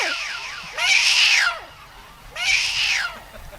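A comedian on stage imitates two cats meowing, making two long, loud, wavering yowls a couple of seconds apart, closely miked with no other sound.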